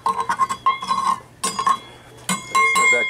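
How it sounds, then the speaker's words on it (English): Rice, water and salt are stirred in a cooking pot, a spoon clinking and scraping against the metal in quick uneven bursts with short pauses, close and clear. "and then we'll stir it up"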